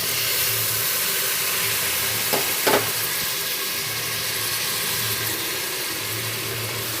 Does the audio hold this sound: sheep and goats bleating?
no